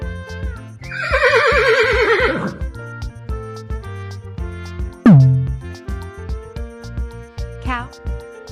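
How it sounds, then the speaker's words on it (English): A horse gives one loud, close whinny lasting about two seconds, rising and then falling in pitch, heard over a steady background music track. "Horse."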